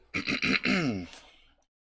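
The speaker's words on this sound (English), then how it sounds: "Allow me to clear my throat." A single person clears their throat with a few short, rough bursts followed by a longer gravelly rasp, close and fairly quiet.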